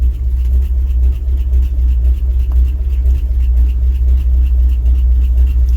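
A 1967 International 1200 truck engine runs after sitting through an Alaskan winter, a deep, steady low rumble with a fast, even throb, loud and close with no talk over it.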